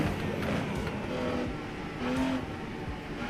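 A BMW GT4 race car engine in the sim racing game Rennsport holds a steady, moderately loud drone with slight rises and dips in revs, close and continuous.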